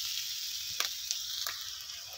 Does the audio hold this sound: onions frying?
yes